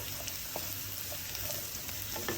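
Mushrooms frying in a pan for a vegetarian Bolognese, a constant soft sizzle broken by a few faint stirring clinks and scrapes, with no voices.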